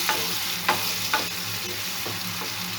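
Grated tomato sauce with salt and black pepper bubbling in a pan, a constant soft sizzle under a few spaced scrapes of a spoon stirring through it, close by and without speech.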